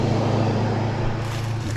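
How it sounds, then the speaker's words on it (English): A car passes along a road in rural Hendersonville, a steady broadband engine and tire roar holding close and even for the whole stretch with a low hum beneath, no voices. "let's just let this car go by."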